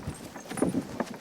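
A horse being ridden at a walk on a farm gives a few light clip-clop hoof strikes, soft and fairly close, with no talking over them.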